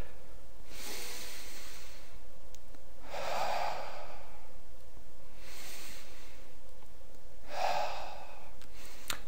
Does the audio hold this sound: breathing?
yes